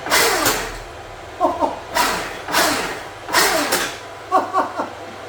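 A high-pitched electric motor on a Stark Varg electric dirt bike whines up in repeated full-power bursts, each surge fading before the next, with brief chattering revs between them.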